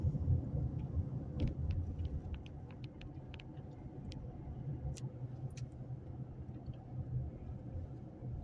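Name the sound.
vehicles approaching on a one-lane road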